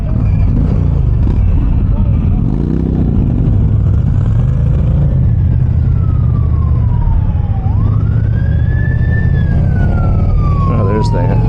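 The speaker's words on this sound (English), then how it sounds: "there's the fire truck" A fire truck siren wails and sweeps up and down in the distance over a loud, constant motorcycle engine and wind rumble.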